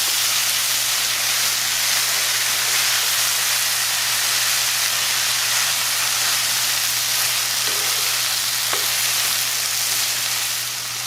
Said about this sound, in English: I know that sizzle.